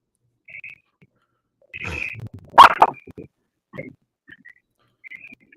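A dog gives a few short nearby yips and barks, spaced out between brief bursts of people's voices.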